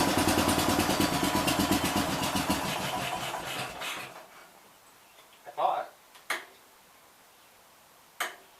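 A 1969 Gravely 430 tractor engine runs with a rapid, loud chugging for about four seconds, then dies away into near silence broken by a few sharp clanks and knocks.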